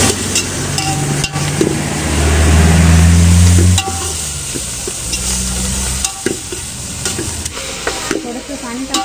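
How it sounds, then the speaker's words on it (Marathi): Dried shrimp sizzles in oil with onions in a pan over a wood-fired stove, with firm spoon scrapes and clanks as it is stirred. Loud and close, with a sharp sizzle burst near the start and a low hum beneath. "त्यामध्ये मी हा जवला टाकून घेते आणि चांगला परतून घेते."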